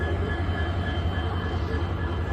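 Steady low rumble of a train at Silchar railway station, a close continuous hum with no voices.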